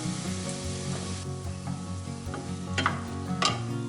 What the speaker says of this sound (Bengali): ডালিয়া আর এগুলোকে আর একটু ভাজা ভাজা হবে।